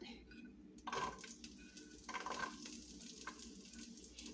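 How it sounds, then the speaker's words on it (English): Onions go into a still-hot pan for homemade Hamburger Helper, giving a soft crackling sizzle with a couple of sharper hisses and faint utensil clinks, all quite low in level. "I'm going to go ahead and put these onions out in the pan, because it should be still pretty hot"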